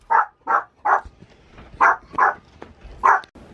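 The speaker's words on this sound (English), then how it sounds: "the dog was barking" A dog barks seven times close by, in two quick runs of loud, evenly spaced barks with short quiet gaps between them.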